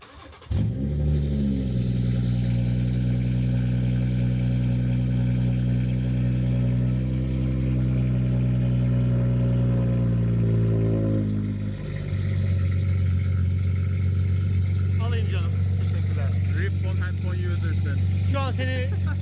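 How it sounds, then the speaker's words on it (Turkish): A BMW G30 with a B58 engine, tuned to about 500 horsepower, cold starts with a sharp crank and a loud flare, then settles into a steady, deep, rumbling idle. Near the end the idle drops lower, and people talk nearby. "Bir şöyle bir cold start alacağım da."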